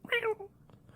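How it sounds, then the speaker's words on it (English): A cat lets out a single short, bright meow as it jumps onto a desk, close and clear, followed by quiet room tone. "As the cat jumps on my desk."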